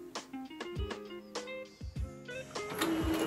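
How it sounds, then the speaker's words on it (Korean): A used print-shop style printer runs off contour drawings, with a steady mechanical whir broken by repeated clunks and rattling thumps of the paper feed and print head, fairly close and with no talk. "중고로 8만원을 산 인쇄소에 있을 것 같은 프린터를 뽑아줍니다."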